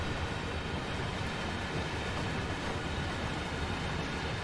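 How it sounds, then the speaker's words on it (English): Long freight train in Train Sim World 2 on Sand Patch Grade, wagons bunching up under braking: a steady, dense rumble of rolling rail cars with low clanking, continuous and fairly loud throughout with no talk. "I can hear all the freight wagons or cars bundling up as you put the brakes on"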